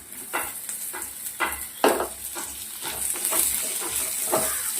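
Ginger fries in oil with urad dal, a light steady sizzle punctuated by a series of scraping, clinking stirs in the pan, nearby and free of speech.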